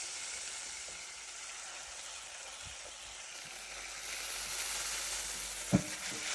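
Tomatoes sizzle and fry in a hot pan for a garlic and tomato rasam, a steady broadband hiss that swells slightly toward the end, with a single soft clunk near the finish.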